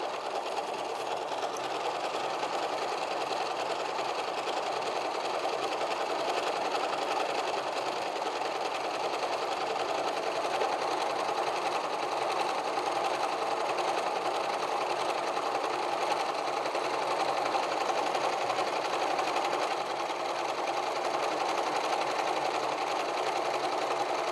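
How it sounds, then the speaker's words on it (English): A sewing machine sewing the neckband of an apron hums and rattles steadily at close range, running continuously without pause and without talking. "then we're going to go ahead and sew our neckband"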